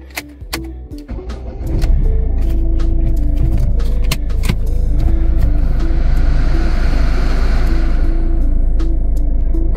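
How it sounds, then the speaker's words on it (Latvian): Steady low engine rumble and vibration from a car with an unwanted vibration fault, heard close inside the vehicle, rising after a quieter start and holding loud and constant with faint rattles and clicks above it. "Motoru vibrācija."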